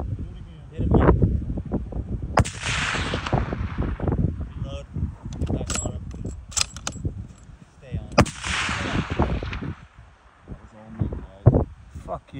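Several sharp, booming rifle shots from a .300 PRC firing 225-grain Nosler Partition bullets ring out on Kodiak Island during a brown bear hunt, spaced seconds apart over gusty wind noise on the microphone.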